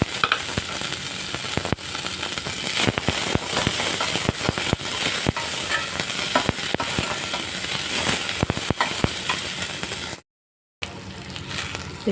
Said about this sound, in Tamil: இது வெங்காயம் வதங்கிடுச்சு.